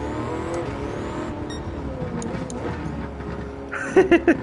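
A Lamborghini Urus SUV runs in Gran Turismo 7, its engine holding a steady, close droning hum the whole time, ending in a few sharp higher bursts as it revs or shifts.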